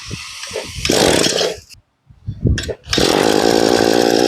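A Maruyama grass trimmer's small two-stroke engine is pulled and fires into a loud, raspy chainsaw-like buzz, cuts out briefly after a second start attempt, then catches again and runs steadily at close range.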